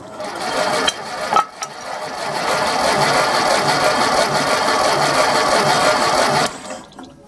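A Ferguson TED 20 tractor engine, unused for about ten years, cranks steadily without catching for roughly six seconds, a loud continuous mechanical churning with a few short clicks before it and a sudden stop at the end.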